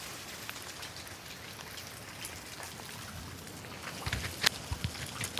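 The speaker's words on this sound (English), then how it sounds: "It is raining." Rain falls outside a house as a soft, steady hiss of fine drops, with a few sharper nearby drips and patters toward the end and no one speaking.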